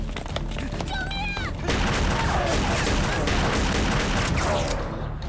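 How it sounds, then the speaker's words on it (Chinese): A dense, loud volley of gunfire from a chase and hostage scene in a Chinese crime drama, with crackling bursts and booms filling the whole stretch alongside raised voices. "我还喊着救命，他们就敢开枪"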